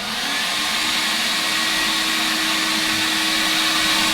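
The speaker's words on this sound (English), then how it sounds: "So I'm going to turn the vacuum on." Vacuum running in a garage setting alongside brake work and a blaster with clogged hoses, a loud steady whine and rushing airflow holding constant from start to finish with no talking.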